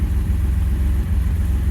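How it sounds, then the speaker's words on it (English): A 1969 MG MGC GT with its engine ticking over at idle, a steady low rumbling close by and even in level, with no talk. "Car's ticking over nicely."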